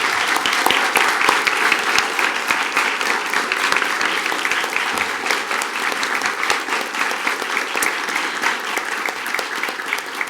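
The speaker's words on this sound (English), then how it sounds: "So let's give them a round of applause." A school board meeting audience gives a long, dense round of applause for a school choir recognized with a national grant. The clapping is steady and full throughout, fairly loud and close, with no talking over it.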